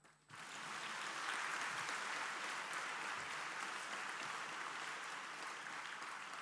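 Sustained applause from a convocation audience starts abruptly and continues evenly, a dense field of clapping without talk.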